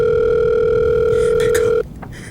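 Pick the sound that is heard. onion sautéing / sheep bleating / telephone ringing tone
telephone ringing tone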